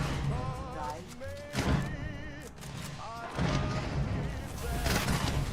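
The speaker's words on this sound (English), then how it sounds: "There may be a few explosions going off down there" Explosions in the video game Starfield, with a heavy booming burst near the start and more rumbling blasts later, mixed with game effects and music throughout.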